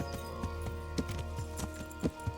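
A steady trot of horse hooves in the medieval game Kingdom Come: Deliverance, evenly spaced thuds at close range over a continuous low hum, with a couple of louder hoof strikes near the end.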